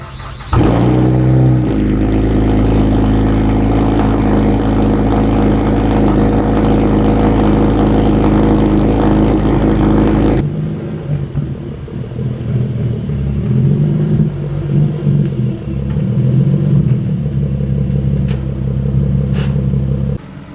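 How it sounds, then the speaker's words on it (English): A supercharged Acura TL-S on a back road, the engine droning loud and steady up close, then easing to a lower, rougher rumble with shifting revs. "I'm gonna go take the TL out and go for a little back road rip"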